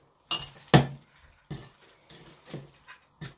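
A spoon clatters and scrapes in a pan as food is stirred and mixed, giving sharp, close knocks at irregular intervals with quieter scraping between them.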